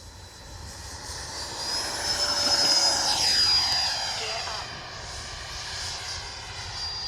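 A Freewing F-22 90mm electric ducted-fan RC jet screams overhead, its whine swelling as it passes close and then sliding down in pitch as it moves away, steady and fairly loud outdoors.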